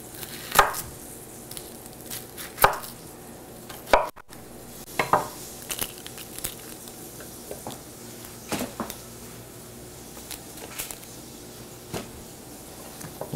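A knife chops onions into chunks on a cutting board, sharp knocks landing a second or two apart in uneven bursts, close and clear with no talking.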